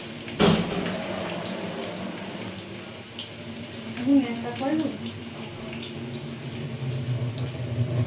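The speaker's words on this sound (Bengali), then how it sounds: "কলটা চালিয়ে দিয়ে চলে গেলে" Water runs steadily from a kitchen tap in a home kitchen, a continuous splashing flow heard under people talking nearby, with occasional clatter of utensils.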